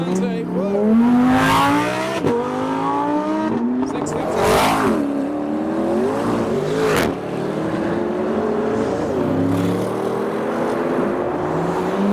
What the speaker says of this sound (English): We've got the supercharged TVR Chimera next as well.